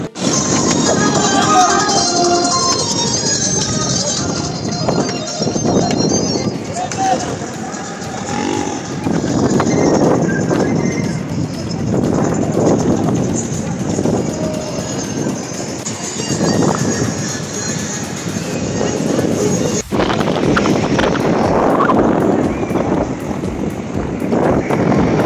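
Steady wind gusting across a seaside viewpoint, a loud continuous rushing roar buffeting the microphone throughout with no clear pauses.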